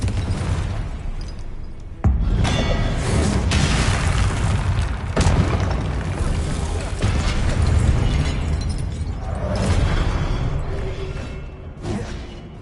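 Confringo explosion spells in Hogwarts Legacy go off as loud booming bursts, several sharp blasts spaced apart, with rumbling combat noise continuing between them.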